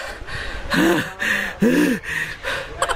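Heavy, ragged panting of someone out of breath after riding a zipline at a jungle adventure park in Chiang Mai, Thailand: several loud, close gasping breaths in quick succession with short pauses between, no talking.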